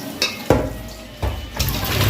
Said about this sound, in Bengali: এবার এই যে এইগুলোকে আবার ভালো করে ধুয়ে নেবো